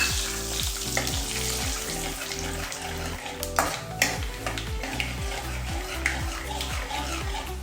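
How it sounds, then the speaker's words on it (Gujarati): Peanuts sizzle and fry in a pan for a spiced sorghum dhani and puffed-rice chevdo, a steady crackling hiss with regular scraping stirs and occasional clinks, close and continuous with no talking. "શિંગદાણા થોડા શેકાવા આવે ત્યાં સુધી એને 1 મિનિટ માટે શેકવાના છે"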